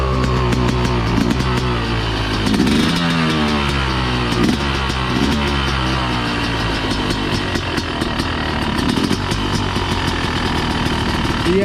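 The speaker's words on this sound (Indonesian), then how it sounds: "Biar idle sebentar, lalu kita geber-geber." A two-stroke motorcycle engine idles while its owner warms it up, a steady, loud, close rumble that runs throughout with slight irregular surges and no talking.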